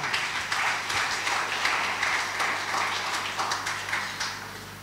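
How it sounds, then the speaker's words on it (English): A church congregation claps together in a steady, rhythmic burst, many hands at moderate loudness with slight swells, and no voices over it. "Let's give Jesus a clap offering"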